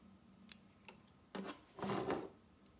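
Small scissors snip embroidery threads on a stocking made on a Brother PE800 single-needle machine: a few faint, quiet cuts, then a louder rustling snip near the end, in a hushed room.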